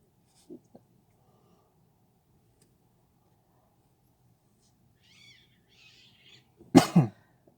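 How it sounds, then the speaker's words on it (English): Cats fighting outdoors: a near-silent stretch with a couple of faint thumps, then quiet chirps build into a loud, short yowling screech near the end. "Some cats fighting out there in the sound."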